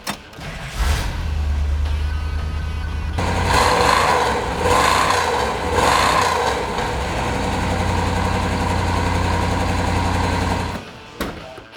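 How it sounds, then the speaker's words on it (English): A 1971 Plymouth Cuda with a 383 V8 idles close by, a deep steady rumble that settles into a loping idle with a few revs swelling in the middle before it cuts off near the end. "Mopars do have a distinct sound, and I believe that they sound awesome."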